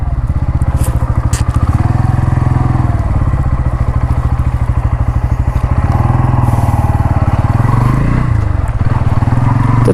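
A 2024 Bajaj Pulsar N160 motorcycle with a two-valve engine revs loud and steady while riding, its rhythmic exhaust pulse running throughout with a brief dip around a gear change.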